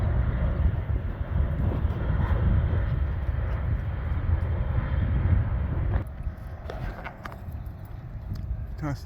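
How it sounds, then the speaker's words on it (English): An airplane comes in to land near Tustin Legacy Park, a steady low engine rumble under wind buffeting that eases off after about six seconds. "Another plane is coming in."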